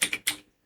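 A few quick keystrokes tapped on a computer keyboard, three close clicks in a short burst, near and crisp, then silence.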